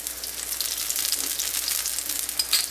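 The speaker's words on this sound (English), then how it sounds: "Now we are going to add little oil in all the holes that we made" Oil sizzles in the holes and around the edge of a multigrain thalipeeth flatbread frying on a pan, a close, bright crackle that holds steady, with a few sharp pops near the end.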